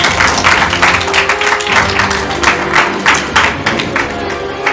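Studio audience clapping to welcome a contestant onto a quiz game show, a close, dense patter of many hands that holds steady for several seconds.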